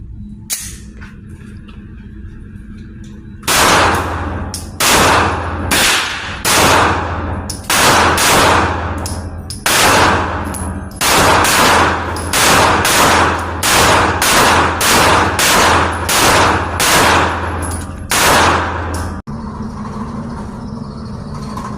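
Gunfire rings out at an outdoor shooting range, a steady series of loud, sharp shots roughly every half second to second, close by, after a short quiet lead-in.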